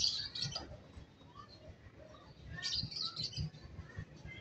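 Faint, distant bird chirps in two short bursts, separated by a quiet gap with low background rumble.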